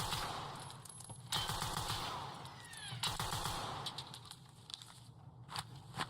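In a first-person shooter, an enemy PMC fires a loud gun: several sharp bursts of gunfire a few seconds apart at moderate distance, with footsteps and ambient game noise between the shots.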